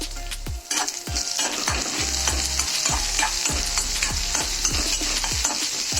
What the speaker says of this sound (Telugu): తర్వాత పచ్చిమిరపకాయ ముక్కలు కూడా వేసుకుని దోరగా వేయించుకోండి.